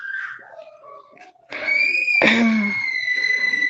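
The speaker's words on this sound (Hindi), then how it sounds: "बच्चे वही मेरी गली के बहुत ज़्यादा शोर कर रहे हैं" Children shout and squeal in a street, their high excited voices rising into loud overlapping cries and sustained screams after a quieter opening stretch.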